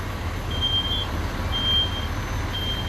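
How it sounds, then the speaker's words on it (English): A smoke alarm sounds during an indoor fire sprinkler demonstration, giving a shrill, high electronic beep about once a second over a steady low rumble of background noise. "We already have that smoke alarm activation"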